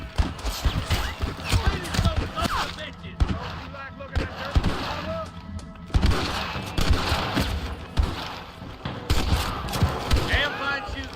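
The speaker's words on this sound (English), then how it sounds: "Damn fine shooting, boys." Rapid bursts of gunfire from a shootout in a video game, sharp cracks and volleys repeating irregularly throughout, loud and close, mixed with game voices and other clatter.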